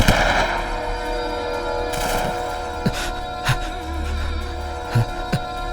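Gunfire in an army action film: several sharp shots crack out at irregular intervals over a continuous droning background score, fairly close and punchy.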